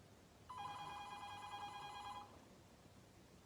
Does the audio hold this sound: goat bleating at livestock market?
no